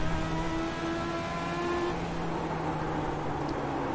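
Race car engine droning steadily in the iRacing video game, an eNASCAR Ignite Series stock car at South Boston, with sustained harmonic engine tones shifting pitch partway through as it holds the throttle, loud and continuous with no talk.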